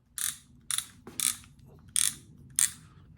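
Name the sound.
fishing reel clicker ratcheting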